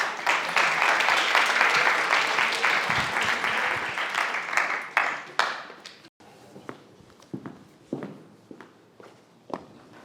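Dense crowd applause at an eloquence competition final fills the first five seconds, then thins into scattered claps and shuffling as it fades out.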